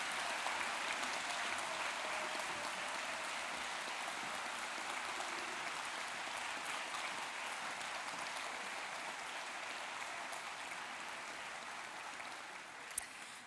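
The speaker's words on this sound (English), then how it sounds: "So we have a big round of applause for all those on our graduate programs." Audience at a graduation ceremony applauding graduates, a dense continuous wash of clapping from a large crowd that holds steady and fades only slightly over about fourteen seconds.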